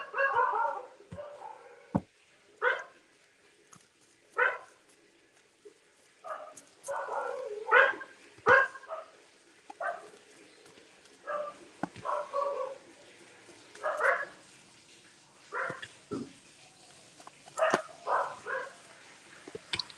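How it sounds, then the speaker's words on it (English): Several dogs bark in short intermittent bursts at moderate distance, scattered over a quiet indoor background with a little talk. "what's up with the dogs today?"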